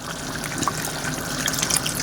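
Liquid drips and trickles steadily while pork dinuguan with coconut milk cooks, a close, continuous wet patter with no talk over it.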